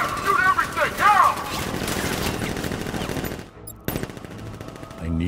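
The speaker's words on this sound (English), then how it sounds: "Gun! Open fire! Shoot everything! Now!" Gunfire in Batman: Arkham Knight, close, loud bursts of rapid automatic fire that stop briefly and resume, under shouted voices.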